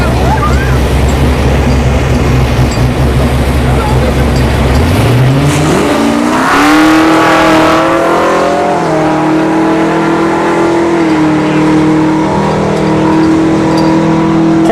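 Fox Body Notchback and Porsche Panamera Turbo drag racing at a dragstrip test-and-tune session, loud engines revving at the line then a long rising acceleration roar pulling away, with the pitch climbing through gear changes.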